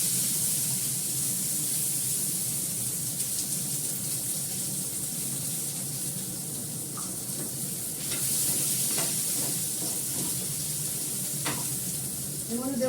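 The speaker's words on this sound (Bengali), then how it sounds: "অল্প করে আলু দেবো, বেগুনটা দিয়ে দেবো এর মধ্যে।" Potato and eggplant frying in hot oil give a steady, close, dense sizzle that hisses without a break, with faint stirring clicks toward the end.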